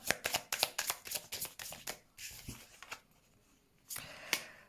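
Tarot cards shuffled by hand during a card reading, a quick run of crisp riffling snaps for about two seconds, then a pause and a couple of softer card slaps, close and fairly quiet.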